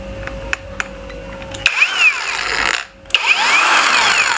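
A HUJIA cordless drill spins up to high speed twice, each run a loud rising whine with a brief stop between, following some background clatter and a steady hum.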